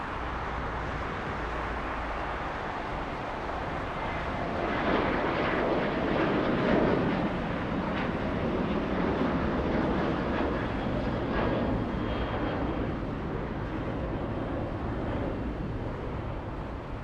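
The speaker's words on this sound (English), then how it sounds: "I think a 737 heading to San Francisco is going to steal the spotlight" A Boeing 737 airliner at Los Angeles airport produces a steady, broad jet roar that swells slightly in the middle and holds for the whole stretch, distant and continuous with no voices.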